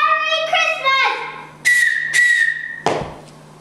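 Several high, shrill train whistle blasts, the first a rising harmonic tone, then sharp bursts cutting in and out, loud and close, with no talking.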